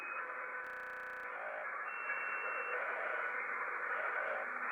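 Steady hiss of static on a radio receiver's noise floor, picked up through a Sirio SD-27 dipole antenna with preamp 1 switched on; a brief buzzing burst cuts in early, then the even hiss continues alone.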